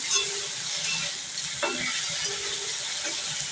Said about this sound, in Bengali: এখন ভালো করে এগুলো একটু ভেজে নিই